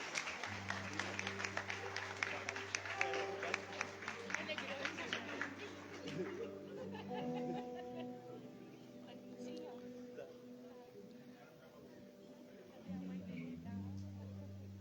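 Members of a church congregation at a Sunday evening service clap for a family being baptised, a soft crackling patter in the first seconds that fades under a steady low organ-like tone and quiet voices.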